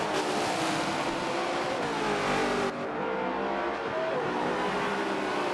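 Holden Commodore race cars roar past at Bathurst, a loud, continuous engine drone dipping briefly mid-pass before surging again, with no talk over it.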